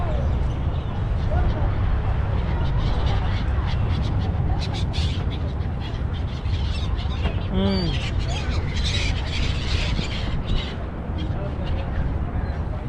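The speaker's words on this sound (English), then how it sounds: "this place is so nice with the birds" Birds call and squawk around the waterside Al Shindagha historical neighborhood in Dubai, repeated calls ringing out over steady outdoor ambience while people talk nearby.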